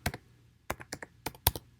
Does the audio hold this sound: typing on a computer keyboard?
yes